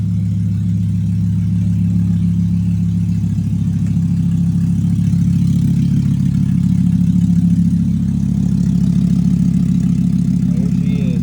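Loud, raw idle from a VW Sportwagon with a new motor and an open header, no exhaust: a steady throbbing low rumble heard close up and unbroken throughout.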